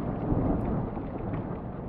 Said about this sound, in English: so the thunderstorm is still going